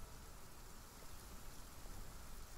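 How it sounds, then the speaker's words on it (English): Steady rain pours across a video-game world, a dense, even hiss of drops hitting surfaces with no break, moderately loud and alone. "Oh my god, it's raining."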